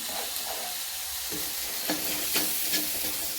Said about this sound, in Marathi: कोथंबीरला पण छान असं परतून घ्यायचं